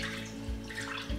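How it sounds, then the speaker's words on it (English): Coconut milk pours into a pan for a vegan taro leaf dish, a soft continuous liquid trickle with faint gurgles, close and steady, no talking. "Then pour the coconut milk."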